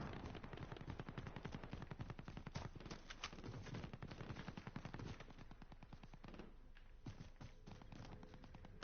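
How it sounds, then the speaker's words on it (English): Light machine gun fire in Call of Duty Warzone, a continuous stream of rapid, clattering shots running the whole length with brief breaks and changes in pace, fairly close and loud, with no talking over it. "Light machine gun."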